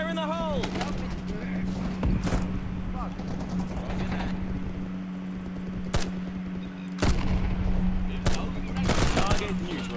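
Video game combat with bursts of gunfire, sharp shots cracking repeatedly over a constant engine-like drone, with a voice talking in between.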